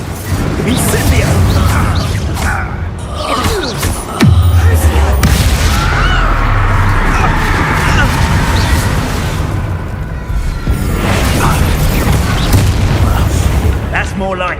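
Incendio fire spell in Hogwarts Legacy, a loud booming burst followed by roaring fire and game combat noise, with a voice talking over it.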